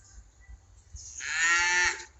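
A cow moos at a livestock sale where cow/calf pairs are being bought, one long, loud call rising after a second of quieter background shuffling and knocks.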